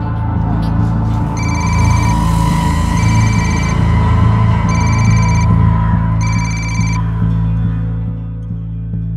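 A telephone rings in repeated electronic bursts of trilling tones during a Hindi crime drama, with three or four rings sounding over a loud, steady background hum.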